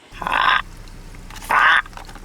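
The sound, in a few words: pet bird calling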